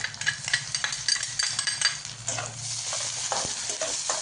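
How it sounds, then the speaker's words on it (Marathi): A spoon stirs chopped tomato, curry leaves, green chilli and ground garlic in a hot pan for a village-style ridge gourd chutney. Close scraping strokes fall in an uneven rhythm over a soft sizzle, with no voices. "आता हे सगळं एकजीव करणार आहे चांगलं मिक्स करून घ्यायचं आहे"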